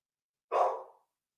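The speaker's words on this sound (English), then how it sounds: "Did you hear the dog barking?" A single short dog bark, clear and moderately distant, alone in quiet.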